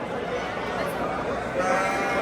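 Lambs bleat amid a dense, noisy crowd at a sheep market, with steady background chatter and animal calls throughout.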